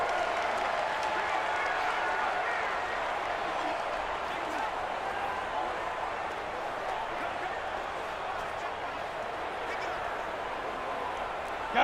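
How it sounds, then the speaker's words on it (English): Stadium crowd noise from a Madden NFL 20 video game set in a domed stadium during a Giants vs Saints matchup, a steady, dense roar of cheering fans that stays loud and constant throughout, with play-by-play commentary over it. "The crowd here in the Dome making things difficult."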